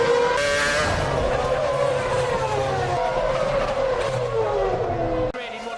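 2008 Formula 1 car losing its rear end and colliding with another car: loud, continuous high-pitched engine whine sliding downward in pitch with tire scrub underneath, ending in an abrupt cutoff near the end.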